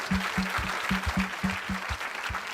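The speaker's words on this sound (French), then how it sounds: "we give a hand clap to the Lord for His word" A church congregation claps for the Lord in a steady, rhythmic beat, with many hands sounding together at a moderate distance and no talking over it.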